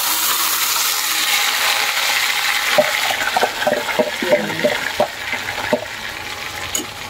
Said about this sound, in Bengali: তেলটা গরম হয়ে গেছে। এবারে আমি আঁচটা কমিয়ে মাটনটা তেলের মধ্যে